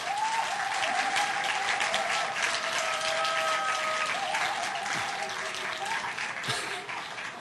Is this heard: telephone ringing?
no